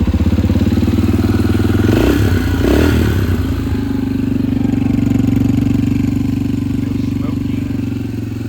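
A Yamaha TTR125 motorcycle engine, repaired after being dropped in shipping, runs loud and close with a steady mid-pitched chug and some clattering, briefly roughening near the start before settling into an even idle.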